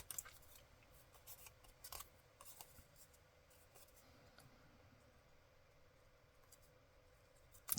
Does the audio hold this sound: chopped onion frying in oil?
no